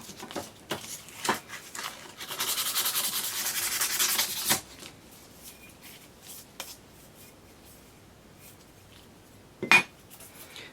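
Hand sanding of a metal cosplay belt buckle with 300 grit sandpaper, a dense scratchy rasp running steadily for about two seconds between shorter rubbing strokes, close and fairly quiet, with occasional sharp knocks and no talk.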